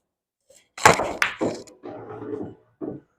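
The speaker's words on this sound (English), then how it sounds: "I'm just going to try to do the old stop shot on this." A cue strikes the ball for a stop shot in billiards, a solid close knock followed by softer thuds of balls rolling and striking on the table.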